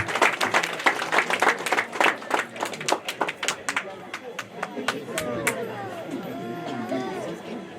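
A wedding ceremony crowd claps steadily at first, then the applause thins out into scattered claps as a voice begins speaking over it.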